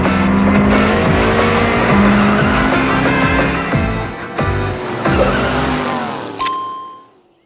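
Cartoon race cars speeding along a track, with loud continuous engine whine, tire squeals and skidding under upbeat music, ending in a chime before fading out.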